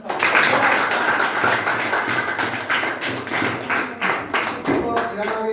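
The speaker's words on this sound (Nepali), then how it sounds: "एकचोटि ताली बजाइदिउँ न" A school audience claps in a dense, continuous round that stays loud throughout, with some individual claps standing out near the end.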